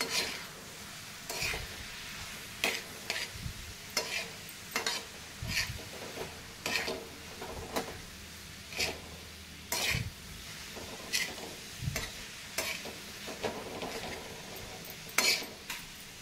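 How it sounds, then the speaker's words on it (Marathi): A spoon stirs ground cumin and coriander spices in a pan for masala pav, with repeated scraping clinks of metal on metal at an irregular rhythm over a faint, steady sizzle, close and without talk. "आता आपल्याला ना हे चांगलं असं मिक्स करून घ्यायचं आहे"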